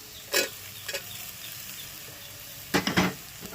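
Winter vegetables stir-fry in a pan for homemade chowmein, a steady low sizzle broken by several sharp bursts of tossing and scraping.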